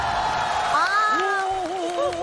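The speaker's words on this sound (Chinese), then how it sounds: "妹子，我们为你送上最热烈的掌声" Studio audience applauding and cheering for a girl at a tasting show, with rising whoops over a dense crowd bed.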